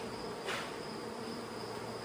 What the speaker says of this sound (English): let that sunshine pull the rest of these bees out of the box